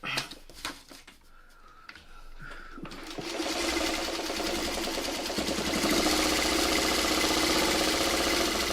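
Sewing machine stitching a quilt block piece, a steady rapid whirring run that starts after a few quiet seconds of handling and builds to a loud continuous drone.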